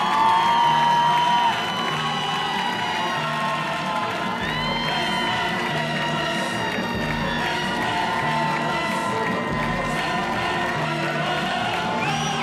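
A live X-Factor final studio audience cheers and whoops as a mentor and band are introduced. The sustained crowd roar sits over loud stage music with tonal melody lines and steady low beats throughout.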